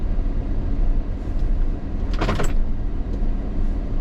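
Van rolling along a road, a loud continuous engine and road rumble from inside the cabin, with a brief brighter rattle or whoosh in the middle and no talking.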